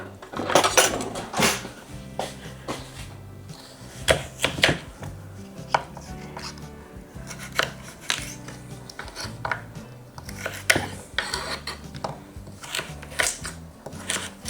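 A larger knife chopping sweet potatoes into sticks on a board, sharp repeated thunks at an uneven rhythm, close and clear with no talk.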